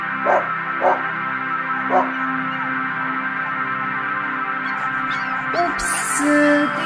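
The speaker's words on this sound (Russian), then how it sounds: "Это рай для собак." Dogs barking in the Minecraft video game, a few short yips spaced out early on over a steady background hum, with a brighter burst near the end.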